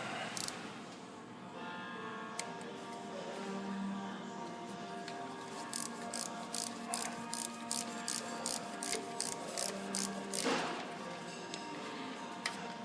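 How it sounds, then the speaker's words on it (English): A torque wrench clicks and ratchets as big bolts on a Ford Taurus 3.0L 12v timing cover are tightened, producing a steady run of sharp, evenly spaced mechanical clicks close up with no talking. "we're going to start torquing down these big bolts"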